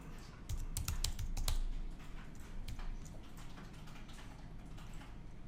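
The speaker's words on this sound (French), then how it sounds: "je vais taper le texte" Text is typed on a computer keyboard in quick clusters of close clicking keystrokes, busiest early on and then thinning to sparser taps.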